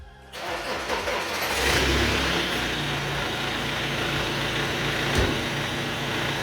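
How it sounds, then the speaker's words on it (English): A BMW E9X car engine cranks and catches after a brief quiet start, then settles into a steady, loud idle close by, with a short rev bump near the end; no one speaks. "let's go ahead and start the car."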